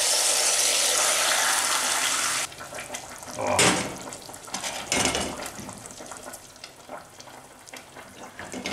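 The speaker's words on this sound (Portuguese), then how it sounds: "Agora eu vou jogar um pouco de água aqui." Hot water poured over seared pork in a pan: a loud hissing, splashing pour for about two and a half seconds, then bursts of sizzling and bubbling that fade into a quieter simmer.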